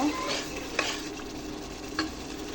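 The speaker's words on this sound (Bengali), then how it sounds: "এভাবে আমি মশলাটাকে ভালো করে কষিয়ে নেব।" Spice paste of ginger and garlic with a little water sizzling and frying in a kadai as it is stirred, steady close crackle with a few sharp scraping strokes of the spoon against the pan, no talking.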